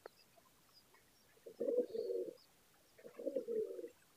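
A pair of Mysore pigeons coo in two soft, rolling bouts separated by a short pause, heard close and clear against a quiet background.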